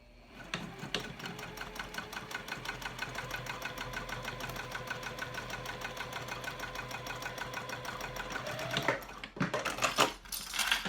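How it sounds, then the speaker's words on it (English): A sewing machine runs steadily at close range, its rapid even needle rattle continuing for several seconds while stitching a backpack gusset, then slowing and stopping with a few clunks. "Alright, so I'm going to go back to the machine and stitch this."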